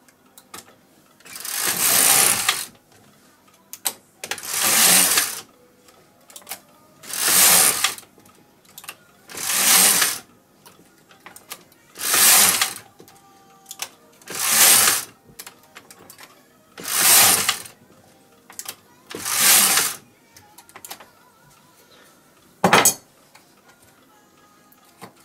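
A knitting machine carriage is pushed back and forth short-rowing a hat with a four-point crown, nine loud evenly spaced mechanical whooshing passes about two and a half seconds apart, close and alone, followed by one sharp click.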